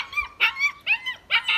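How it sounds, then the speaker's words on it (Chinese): Puppies bark and yip in four or five short, high, bright bursts over under two seconds, fairly close and clear, with no talking. "后边是小狗"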